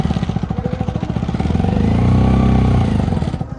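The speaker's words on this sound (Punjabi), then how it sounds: "ਮੋਟਰਸਾਈਕਲ ਨਹੀਂ ਚੜ ਰਿਹਾ ਸੀ" A motorcycle labours up a steep climb in Leh, its engine thudding in a rapid, uneven pulse that swells into a strained, louder drone midway before easing back, close and prominent with no speech.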